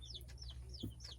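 Juvenile chickens making short, rising chirps and a soft low cluck, several quick peeps spread over a second, fairly faint against a low background hum.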